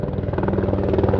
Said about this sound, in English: wait for the helicopter to go over